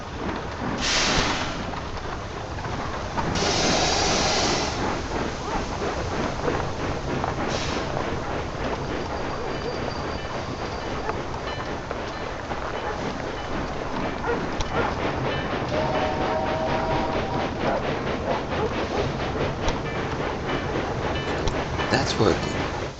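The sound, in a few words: passenger train passing in video game Railway Empire 2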